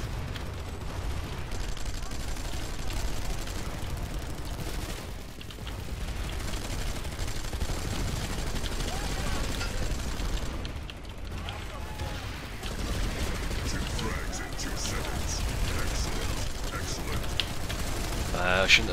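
Dense, sustained gunfire from a Planetside 2 battle, including shotgun blasts, rolls on for the whole stretch as a loud, continuous wash of rapid shots and impacts with a brief dip midway.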